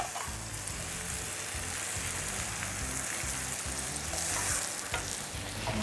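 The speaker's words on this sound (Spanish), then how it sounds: "A sofreír un poquito." Sofrito sizzling and frying steadily in a pan, a dense, continuous crackle with stirring scrapes beneath, close and even throughout.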